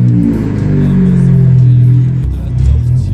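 A Ford Fiesta ST pulls away, its engine rumbling low and steady and rising slightly as it drives off, with a brief dip and a fresh surge of revs near the end, heard close with no talking.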